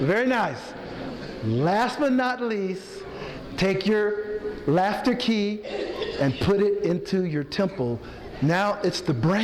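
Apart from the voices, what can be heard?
None of the usual background noises is heard.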